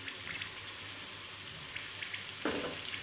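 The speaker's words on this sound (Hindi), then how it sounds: "अब हम इसी तरह से दूसरा पराठा रेडी कर लेते हैं। स्टार्ट में आँच हमें बिल्कुल स्लो रखनी है," Egg paratha batter sizzles and fries on a pan over low heat, a soft continuous crackle with a slightly louder hiss near the end, and no talking.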